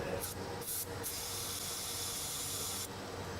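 Short hissing bursts from an aerosol can of ceramic-fortified grease during Ford Edge brake maintenance, two quick sprays followed by a longer steady spray, close and fairly quiet.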